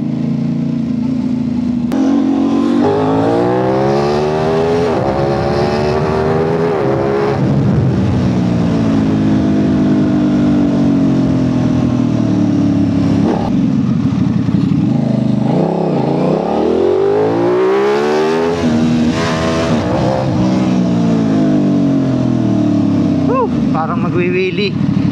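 An Aprilia RS660 sport motorcycle revs hard while being ridden, its engine pitch sweeping up and down through repeated gear changes, loud and close throughout.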